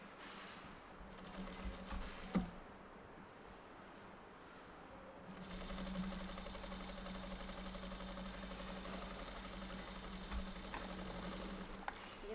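A quiet sewing machine stitches a bodice with a soft, steady mechanical hum. A brief run starts early, then a longer continuous stretch follows, with faint clicks now and then.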